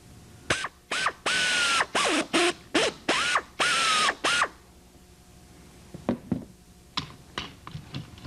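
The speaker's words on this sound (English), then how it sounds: "And then go ahead and drill your other hole." A hand drill bores holes in a pre-punched aluminium tail part of a Van's RV-6 kit plane, close and loud in about seven short whining bursts of rising and falling pitch, followed by light clicks and taps of handling parts.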